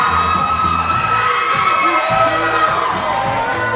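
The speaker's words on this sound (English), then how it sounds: "What's these people cheer for?" A crowd at a 2015 Global Championship Wrestling show in Pell City cheers and shouts continuously, a loud, dense wash of voices and whoops with an occasional bang.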